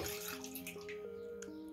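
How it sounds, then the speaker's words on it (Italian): Distilled water poured into a baby bottle sterilizer, a steady close trickling stream with a rising tonal ring as the small reservoir fills, heard alone without talk. "Ora vado ad aggiungere l'acqua."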